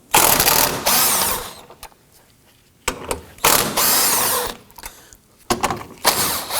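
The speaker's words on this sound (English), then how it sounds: "We're going to use our impact driver here to go ahead and loosen and remove these." Impact driver loosening and removing 10mm bolts on a 2018-2024 Toyota Camry 2.5L four-cylinder, several loud close bursts of rattling hammering separated by brief pauses, no talk.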